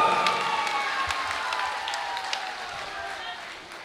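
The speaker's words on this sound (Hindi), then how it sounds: "जोरदार तालियों से खुर्रम भाई का जोरदार इस्तकबाल करके उन्हें बताइए कि आप उनकी कोशिशों में उनके साथ हैं।" Applause from an audience at an all-India mushaira poetry gathering, a steady dense wash of clapping heard from within the crowd and slowly fading toward the end.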